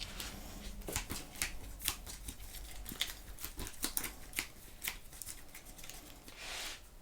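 Board game cards for a solo game of Terra Mystica being shuffled by hand on a table: a quick series of soft riffling flutters and snaps, close and quiet, with no voices.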